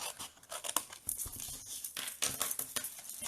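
Scissors cut paper template pieces in half for a window box craft, producing close, dry snipping and crinkling with irregular crisp bursts and rustles of handled paper, and no voices.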